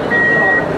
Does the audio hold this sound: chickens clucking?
no